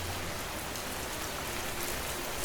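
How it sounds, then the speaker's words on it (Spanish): Steady rain patters densely on palm-leaf roofs in India during the monsoon, a continuous close wash of drops with no voices. "El sonido de la lluvia sobre los tejados de palma."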